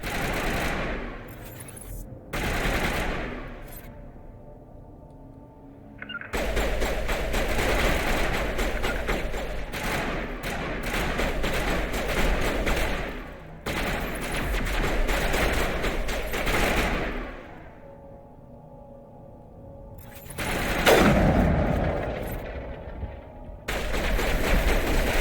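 Gunfire in Mass Effect Legendary Edition: sustained, loud automatic bursts run through much of the stretch, broken by short pauses and heavier thumping impacts, with no speech.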